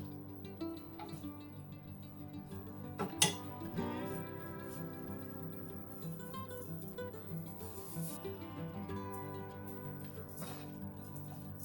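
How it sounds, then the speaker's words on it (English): Stirring chili and sesame oil into a seaweed stem stir-fry in a hot pan, faint scraping and clinks of utensil against the pan with one sharper knock, over a quiet background hum. "While the pan is still hot, add the chili and sesame oil and mix well."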